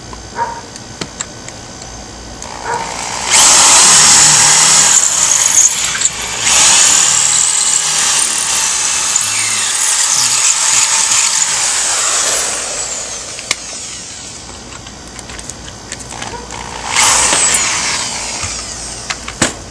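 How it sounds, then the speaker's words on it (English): A power drill with a concrete drill bit whines loudly and steadily as it bores into concrete, with a short pause midway and a second burst near the end. "The next bit I'm going to use is a concrete drill bit to go through the concrete behind it"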